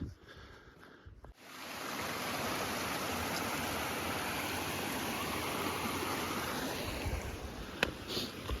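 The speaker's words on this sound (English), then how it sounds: "Nice little creek, number 4." A small mountain creek along a Dolomite Valley backpacking trail flows in a steady, even burble after a brief quieter start, close and continuous with no talking.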